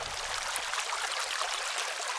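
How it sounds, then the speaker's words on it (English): Steady flowing water, a continuous bright trickling and splashing like a small stream, close by with no voices. "and I also recorded the sound of water."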